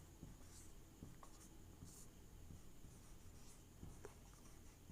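Marker or pen writing the Euclid division formula on a board in a maths class, a series of faint scratchy strokes and taps at an uneven pace over a low steady background hum.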